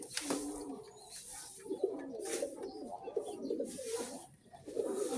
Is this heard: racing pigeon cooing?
yes